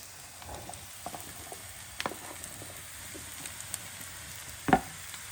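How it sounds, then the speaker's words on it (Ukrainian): Mushrooms and onions sizzle and crackle steadily in a hot uncovered frying pan, with light scraping of a utensil stirring now and then and one louder clatter near the end. "І ось так будемо смажити, щоб волога з грибочків виходила."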